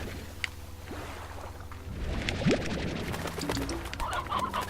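Chickens clucking somewhere out of sight in the video game Slime Rancher, a few short clucks over a steady ambient game backdrop with water-like noise and small chimes.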